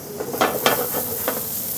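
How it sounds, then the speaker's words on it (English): Steady hiss of potatoes sizzling on a hot sheet tray from a 450-degree oven, with a few sharp crackles and light scraping clinks breaking through. "You hear that sizzle? That's what you want."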